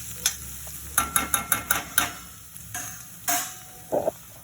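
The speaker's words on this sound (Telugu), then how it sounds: "బాగా కలపాలి. బాగా కలుపుకోవాలి." Potato curry being stirred and mixed in a pan with dry fruit powder, a run of sharp scraping strokes at a steady rhythm, then a few scattered scrapes, close and clear with no talk.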